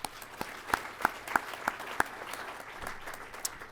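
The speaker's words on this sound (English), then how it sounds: "So please, a round of applause for our maintainers." Scattered clapping from an audience at an Air Force pilot training graduation ceremony, a handful of distinct, spaced claps over a faint crowd murmur in a large room, fairly soft overall.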